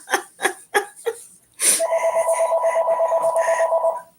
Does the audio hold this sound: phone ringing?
yes